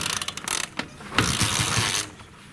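A Dnepr sidecar motorcycle being started in cold winter weather: close mechanical clicking and cranking, then a louder rough broadband burst lasting about a second before it fades.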